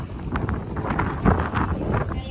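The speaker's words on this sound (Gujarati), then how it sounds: "જોરદાર પવન છે ઠંડુ ઠંડુ વાતાવરણ છે" Strong wind buffets the microphone with a steady rushing roar, while a person talks underneath.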